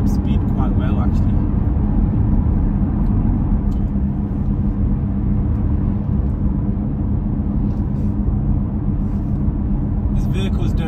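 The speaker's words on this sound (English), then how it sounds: "The vehicle picks up speed quite well, actually." A 2018 Land Rover Discovery 3.0L TD6 SE with 73,000 miles accelerates smoothly on a road, with a loud, steady low engine and road rumble heard inside the cabin.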